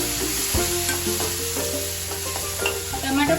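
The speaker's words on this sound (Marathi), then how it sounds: "कांदा अगदी लालसर होईपर्यंत परतून घ्यायचा आहे" Onion and tomato sizzle steadily in a frying pan for a potato curry, a close, continuous hiss with the light scrape and clink of stirring.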